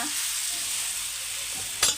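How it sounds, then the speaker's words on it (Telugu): Dosa batter cooks on a hot pan with a continuous close hiss and sizzle, ending in a brief louder scrape or flare near the end. "నేనైతే దోశ వేస్తున్నా"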